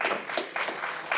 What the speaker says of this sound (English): We can hold the applause until the end of the forum, please.